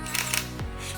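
Sony Alpha 7 II mirrorless camera shutter firing in a slow, drawn-out mechanical clack, heard close and clear with a brief double click and no talk.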